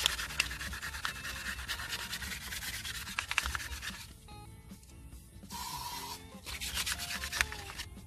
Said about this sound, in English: I'll be able to just give the surface a bit of a sand up